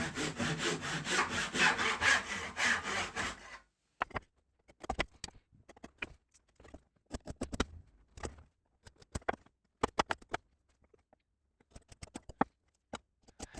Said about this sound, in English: I opted for a challenge this time and a chance to practice my hand sawing